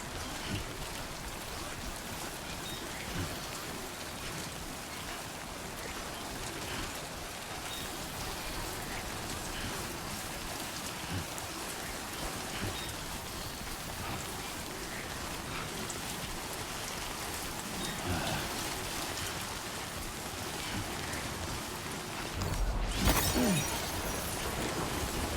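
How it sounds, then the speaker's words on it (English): Steady, heavy rain in the video game Death Stranding 2: On the Beach hisses and patters continuously for the full stretch, with a brief louder burst of splashing near the end. "Fucking raining, innit?"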